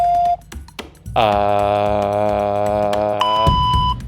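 A loud, steady electronic tone holds for about two seconds, then switches to a higher pure beep, with brief clicks before it.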